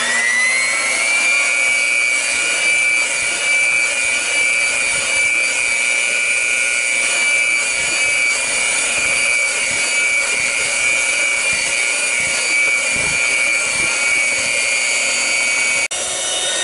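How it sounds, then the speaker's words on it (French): A small electric hand mixer beating doughnut batter, a loud steady whine that runs unbroken through the whole stretch, close up and alone. "J'ai un petit mélangeur à main ici. Je vais tout mélanger."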